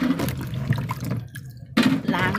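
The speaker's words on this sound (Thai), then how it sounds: "เปิดน้ำให้หน่อย" Tap water runs and splashes steadily while salt-brined pickled Indian gooseberries are rinsed in a kitchen sink, with a brief pause in the flow before it resumes.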